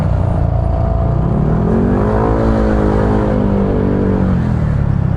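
Honda PCX scooter riding along a road, its engine droning steadily up close with a rising, falling pitch as it accelerates, under constant wind rush and no talk.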